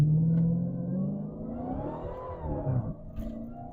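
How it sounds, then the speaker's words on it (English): A 2023 Dodge Challenger Hellcat Redeye Jailbreak's engine rumbles and rises under throttle from inside the car, a deep, close, growling note that swells and settles over a few seconds. "I'm going to give it a little bit of throttle."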